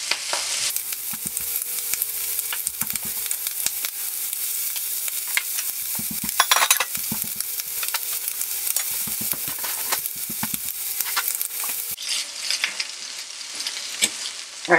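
Chicken breast sizzling in a grill pan for a Cobb salad, a loud, close, continuous hiss broken by bursts of crackling and the occasional scrape or clatter of the pan, with no voices.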